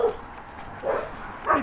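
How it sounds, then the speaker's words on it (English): Puppies yipping and whimpering close by, three short high-pitched bursts spread over a moment with quiet gaps between. "There's a couple of the puppies."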